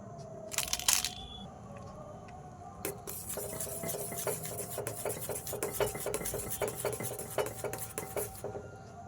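A spoon stirring coffee and sugar in a cup, producing a rapid run of bright, rhythmic clinks against the cup's sides after a brief clatter at the start.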